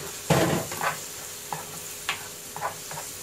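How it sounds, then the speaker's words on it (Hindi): Turmeric, chili and cumin stirred into tomatoes frying with ginger and garlic in a pan, a soft steady sizzle broken by several scraping stirs, one loud near stroke at the start and lighter ones after. "अभी देखो हल्दी मिर्ची और जीरा इसमें डालने का, मिक्स कर लो।"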